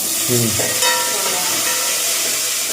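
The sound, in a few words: curry leaves frying in oil for kara kuzhambu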